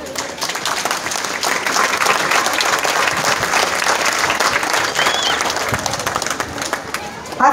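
An audience at a sociocultural event in San Mateo Yoloxochitlán applauds the municipal trustee with sustained, loud, crowded clapping that holds steady throughout and fades slightly near the end, with faint voices underneath.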